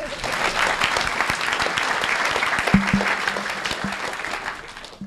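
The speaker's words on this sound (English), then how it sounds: "More applause." An audience at a conference lightning talks session claps as the next presenters come up, a full, fairly loud round of applause with individual claps popping out of the steady wash.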